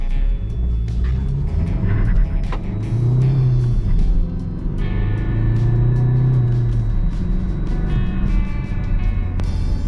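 Renault Megane 1.9 dCi 130 hp turbo diesel engine running steadily on the road, a continuous low rumble with road noise, close and fairly loud throughout.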